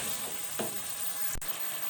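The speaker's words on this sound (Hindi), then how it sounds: "जी, टमाटर और दही ऐड कर दिए हैं, अच्छी तरह से मिक्स कर लेंगे।" Tomato and whipped curd fry in a pan with a steady close hiss of oil, with a soft stir scrape early on and one sharp knock of a utensil near the end, and no talking.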